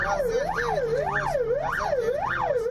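A fire engine siren wails in a steady rising and falling cycle, about four sweeps in under three seconds, loud and close on a city road in traffic.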